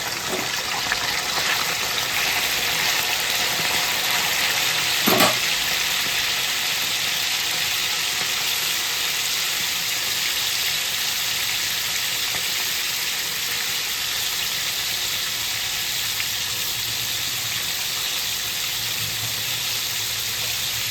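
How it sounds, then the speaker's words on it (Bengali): Chicken pieces for home-made chilli chicken frying in oil, a steady broad hiss of sizzling that holds evenly throughout, with one brief clatter early on and no voices. "এবার আমি অল্প অল্প করে চিকেনগুলো ভেজে নেব।"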